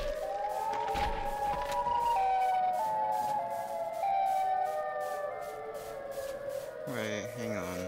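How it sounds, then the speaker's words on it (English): A wailing, siren-like tone with sliding pitch from the monster Siren Head sustains over a busy video game soundscape, joined near the end by a harsher warbling burst. "Go, Siren Head!"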